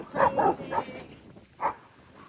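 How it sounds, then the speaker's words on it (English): Small dogs near a rural road on the walk to Tronadora give a quick burst of high, yappy barks, then one more bark after a short pause, fairly close by. "I can already see the little dogs"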